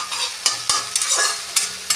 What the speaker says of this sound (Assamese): এতিয়া এইখিনি ৰংচোৱালৈকে ভাজিম পিঁয়াজখিনিও